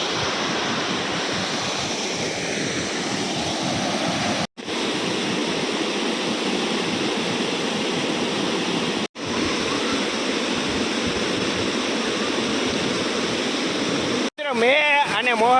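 Sembalpani waterfall near Ambaji roars as a steady, loud, broadband rush of falling water, continuous for the whole stretch apart from a few brief cuts.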